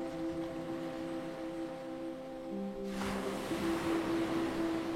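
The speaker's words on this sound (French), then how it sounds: "Comme la vague de l'océan qui va et qui vient" Steady wash of ocean surf, broad and continuous, with a low tonal hum underneath that swells slightly louder toward the end.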